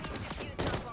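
A quick burst of gunfire in Call of Duty Modern Warfare 3, two or three rapid shots within a second, moderately loud, with faint voices underneath.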